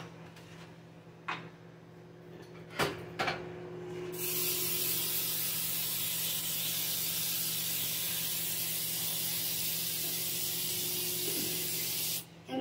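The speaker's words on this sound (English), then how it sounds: "And there's our pan sprayed." Baking spray with flour and butter blended in is sprayed onto a baking pan for peanut butter bars, a long steady aerosol hiss lasting several seconds after a few short clicks and taps, close by with no talking.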